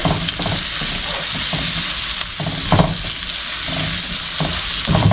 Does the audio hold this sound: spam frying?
yes